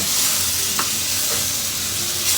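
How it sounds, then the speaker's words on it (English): Pork chops sear in sizzling brown butter, a steady close frying hiss with a few small pops and spatters, no talk over it. "We're going to get these pork chops in there to sear"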